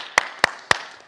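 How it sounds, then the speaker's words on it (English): Three sharp, evenly spaced claps during a home fitness session, close and isolated over a quiet background. "Give yourselves a round of applause."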